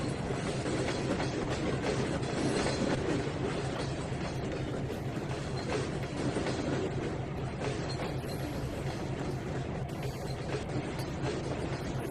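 A train in Trainz 2019 rolls past on the TideWater route: a steady, loud, continuous rumble with wheel clatter lasting throughout, heard alone.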